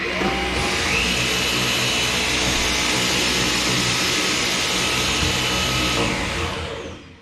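A Samsung Jet 90 Pro and a Dyson cordless vacuum cleaner both run on their medium setting. They make a loud, continuous whooshing whir close by for several seconds, then it tapers off at the end.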